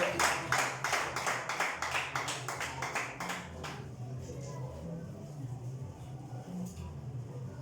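A church audience claps for Jesus in a brisk run of loud claps that stops partway, followed by a quieter room with low murmuring voices.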